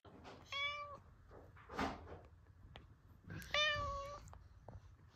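A domestic cat meows twice, each call long and clear with a wavering pitch, separated by softer indoor knocks and rustles in a quiet room.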